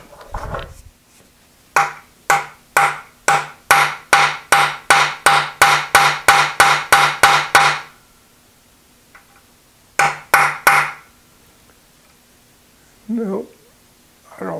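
A hammer strikes a metal part of a 1950 Wells Index Model 40 milling machine under restoration. About seventeen evenly spaced, ringing blows come in a steady run, followed by a pause, a few more hits and a brief voice.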